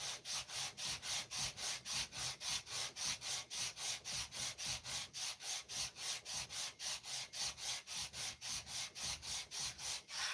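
Hand sanding with coarse 80-grit sandpaper on a warped cylinder head, a steady rhythmic back-and-forth rasp of about three strokes per second, close and even, with no talking.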